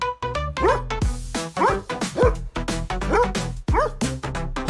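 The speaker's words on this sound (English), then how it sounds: "D is for dog." A dog barks and yips in a quick run of about ten sharp, loud calls close by, heard alone with no talking.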